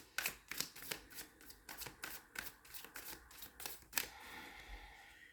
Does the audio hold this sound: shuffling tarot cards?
yes